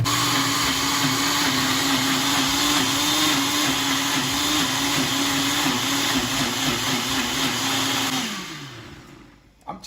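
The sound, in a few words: blender blending jerk sauce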